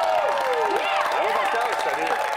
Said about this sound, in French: Je veux qu'on les applaudisse et que ce soit le délire à l'instant.